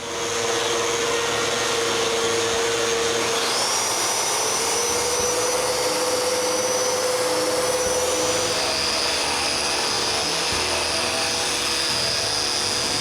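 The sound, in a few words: sanding pine pantry pieces with a power sander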